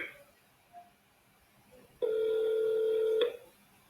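A single steady electronic telephone tone sounds while an automated phone call is transferred to an agent. It holds loud and even for just over a second, then cuts off, following a near-silent pause on the line.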